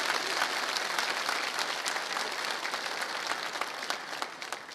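Congregation in a Catholic church applauding, a dense steady patter of many hands clapping continuously and fading slightly toward the end, with no voices over it.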